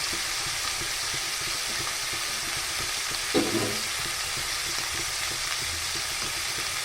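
Mint leaves sautéing in a pan make a steady, dense sizzle that holds evenly throughout, with one brief louder scrape of stirring partway through, close-up and without speech.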